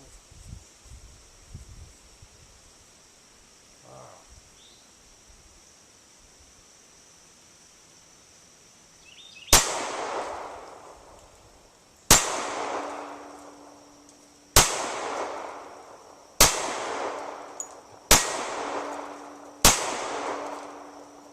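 Smith & Wesson M&P 45 Shield 2.0 Performance Center pistol with a 4-inch barrel fired outdoors: six loud, sharp gunshots spaced about two seconds apart, each with a fading echo, after a quiet stretch.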